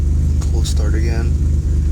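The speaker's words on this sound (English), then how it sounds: "Cold start again." Twin-turbo engine of a 1996 Dodge Stealth R/T idling just after a cold start: a close, steady low rumble with a regular pulsing beat, while a voice speaks briefly over it.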